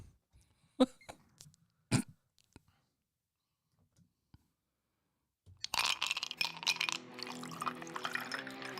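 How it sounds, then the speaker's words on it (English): A man coughs twice in quick, sharp bursts close to the microphone in a casual podcast setting, followed by a pause and then busy background chatter and noise. "I'm going to cough regardless"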